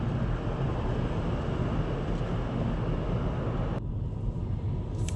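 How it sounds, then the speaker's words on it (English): Wind gusts roar steadily outside near a bay in Elk Neck, Maryland, a broad low rumble that cuts out abruptly near the end and leaves a quieter hush. "But it's windy out there."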